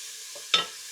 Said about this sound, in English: And I still have my onions in this pan sauteing.